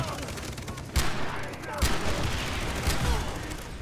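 Gunshots ring out in Far Cry 3 while enemies are sniped, with three sharp, loud cracks spaced about a second apart over a steady noisy game background.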